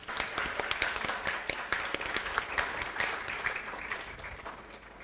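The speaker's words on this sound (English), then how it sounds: "Please join me in welcoming him with a huge round of applause." Audience at a university law department special lecture gives a round of applause to welcome the speaker, a dense crowd of clapping that stays steady and slowly tapers off toward the end.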